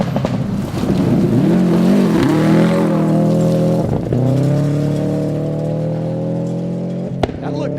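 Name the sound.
rally car driving on a night stage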